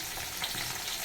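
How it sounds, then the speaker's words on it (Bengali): Bhola fish sizzles in hot oil in a pan, a bright, crackling fry with steady spitting and popping held close for a brief moment. "সবে মাছ ভাজা করছি।"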